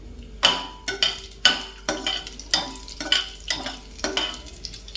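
Whole spices and peppercorns tempering in hot ghee for a traditional fenugreek dal, sharp repeated bursts of crackling and stirring scrapes in a steady rhythm, close and fairly loud, with no one talking.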